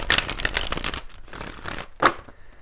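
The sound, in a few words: shuffling tarot cards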